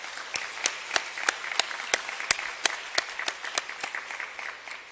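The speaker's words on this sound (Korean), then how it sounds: "위해서 경의의 박수 한번 다시 한번 드렸으면 좋겠습니다" A congregation at an army headquarters church service claps in a sparse, uneven pattern of distinct sharp claps, a few hands heard clearly at moderate volume against a quiet room.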